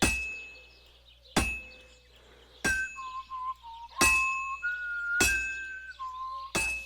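In Kingdom Come Deliverance II, a blacksmith's hammer strikes hot metal on an anvil in six sharp, ringing clangs spaced about a second apart, with softer metallic taps and short tonal chimes between blows.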